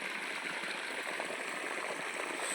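Irrigation water runs through a field channel in an organically farmed onion plot, a faint, steady trickling and gurgling with no voices.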